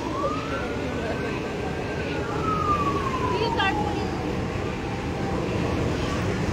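Fire truck sirens wail at a fire on a seaside avenue, one clear rising and falling sweep passing through, with a second brief siren burst, over steady background rumble and crowd noise.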